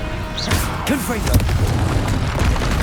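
A Confringo fire spell blasts in Hogwarts Legacy, a burst of booming impact with crackling debris and whooshing magic effects layered over busy combat sound, loud and close, with a brief voiced shout in the mix.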